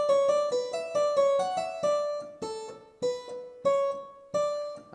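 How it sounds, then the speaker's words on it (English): A violin plays a Bach fugue countersubject, a clear run of bowed notes with distinct, rhythmic attacks over about five seconds, quiet and solo. "the violin plays a counter subject, and that counter subject sounds like this"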